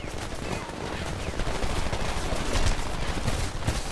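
Sustained machine-gun fire rattles from a second-floor window in the game Homefront, rapid bursts layered with scattered gunshots in a noisy firefight, no speech audible.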